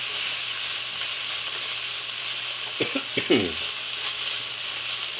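Garlic chicken sizzles steadily in a pan, with a brief burst of scraping and clatter as it is stirred midway, close and moderately loud with no talk.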